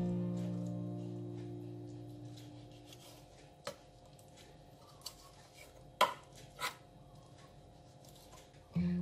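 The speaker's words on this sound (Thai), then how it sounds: "เวลาหั่นค่ะให้เอียงมีดเลยค่ะ เราจะได้เป็นแผ่นนะคะ บางๆค่ะ" Knife slicing soaked dried shiitake mushrooms at an angle into thin pieces, heard as a few scattered soft cuts and taps on a board, faint and spaced apart, against a quiet kitchen hum.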